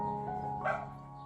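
A young puppy gives a brief whimpering whine that rises into a short yip, close and fairly quiet, a single cry with no talk over it.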